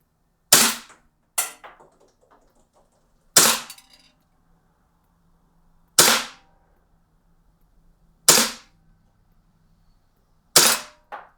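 Umarex KWA HK USP Match gas blowback airsoft pistol fired at a target about 30 feet away outdoors: six sharp, loud cracks spaced irregularly one to three seconds apart, each with a brief metallic slide clack and short decay into quiet.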